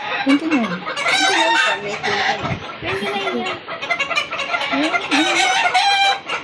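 A rooster crows loudly several times with clucking hens mixed in, busy and close, while people talk over the birds.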